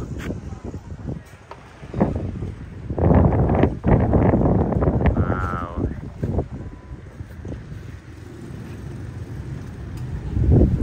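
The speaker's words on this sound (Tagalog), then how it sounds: "Maulan, mahangin, pero wala namang bagyo." Gusty wind buffets the microphone in loud bursts with a steady wash of rain and traffic behind, and a voice exclaims briefly.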